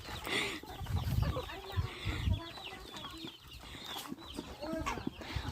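Chickens cluck and croon in a muffled, close way from inside a woven bag, with a few louder squawks and rustling in between.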